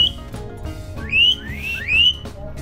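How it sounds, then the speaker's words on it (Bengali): A pet myna bird whistles nearby, giving two clear rising whistle notes over a low background murmur, with no speech. "আমি যদি শিস বাজাই আমার শালিক পাখিটিও শিস বাজাতে পারে"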